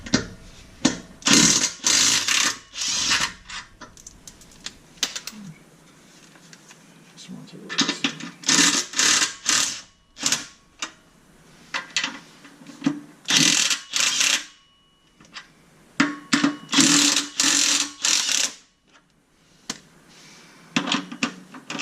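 Rapid, loud ratchet clicking comes in repeated bursts with short pauses as 15 mm bolts on a 2018-2019 Mustang exhaust are loosened.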